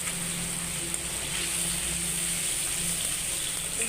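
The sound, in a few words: pangas fish frying in a pan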